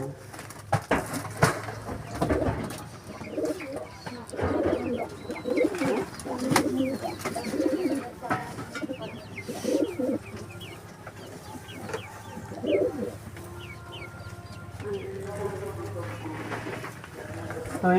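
Lalmohan breed pigeons coo in a loft, soft repeated throaty calls with a steady rhythm, joined by other birds and clucking fowl, while people talk in the background throughout.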